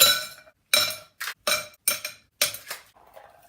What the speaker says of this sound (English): Strain its contents into a Collins glass filled with fresh cubed ice.